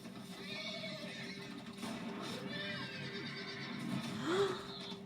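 A horse whinnies in The Walking Dead video game, a rising cry near the end over a constant low hum and soft background sound, with some voice-like murmurs earlier.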